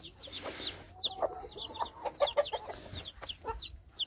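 A hen clucking close by beside her five chicks, with high-pitched chick peeps scattered throughout over a low background hum.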